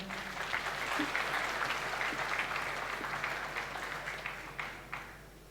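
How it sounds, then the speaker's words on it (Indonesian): A school farewell ceremony crowd at a health vocational school in Tenggarong breaks into applause for the pharmacy students, a broad, sustained wash of clapping that holds steady and then thins out toward the end. "Tepuk tangan dong farmasinya."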